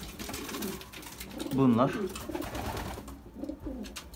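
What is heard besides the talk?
racing pigeons cooing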